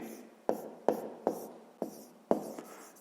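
A hand writes out a math answer with a pen or chalk, making about six sharp taps and short scratchy strokes at a steady pace, close and quiet with no talking.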